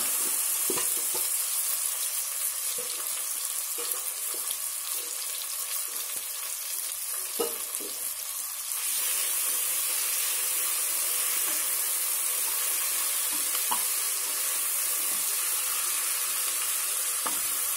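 Marinated prawns frying with onions in a pan, giving a loud, continuous sizzle and hiss throughout, with occasional soft stirring knocks and scrapes.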